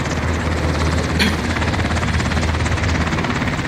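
An aircraft passing overhead in a multiplayer shooter video game: a loud, steady engine drone with a rapid churning pulse that holds constant throughout, with no talk over it.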